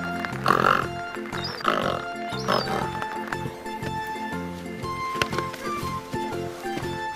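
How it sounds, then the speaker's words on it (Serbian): A pig oinking and grunting in a few short bursts near the start, set against a busy musical backdrop that continues beneath. "Slušaj, to je glas od prasa."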